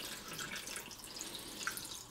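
Faint trickle and splash of water being poured into the top of a Bunn Speed Brew Classic coffee maker, a soft continuous stream with small drip-like accents and no voices.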